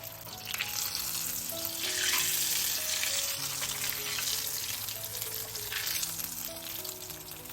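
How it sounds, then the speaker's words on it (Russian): Potato and cheese pirozhki fry in hot oil, a steady close sizzle with bubbling crackle, swelling in brief louder bursts as the pastries are turned, with no talking. "Аккуратно переворачиваем и прожариваем до золотистого колера."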